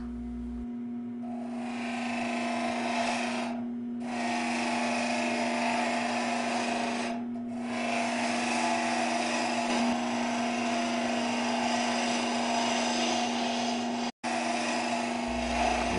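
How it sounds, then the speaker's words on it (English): Wood lathe spinning a capsule box blank while a fingernail gouge rolls a radius, a steady loud whirring hum with a constant tone, interrupted by a couple of brief dips and one sharp break near the end. "Using the fingernail gouge, as you can see, to roll that radius."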